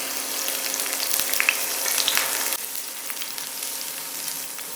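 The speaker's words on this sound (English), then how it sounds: "To cook the shrimp, we're just gonna add a little bit of oil to the pan." Jumbo shrimp fry in a little oil in a pan for a Thai noodle dish. The sizzle is steady and close, with a sharp crackle at first that settles into a softer hiss partway through.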